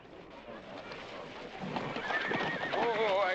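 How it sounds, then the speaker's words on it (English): A horse named Agamemnon whinnies, with hooves clip-clopping steadily beneath; the neigh rises loud and close near the end, and a voice may briefly be heard. "That Agamemnon's a good horse."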